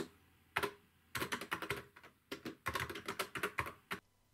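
Fingers type on the solid, well-made keys of a retro home computer keyboard, producing close, fairly quiet bursts of rapid clicking keystrokes separated by short pauses.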